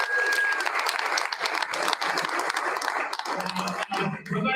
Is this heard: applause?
yes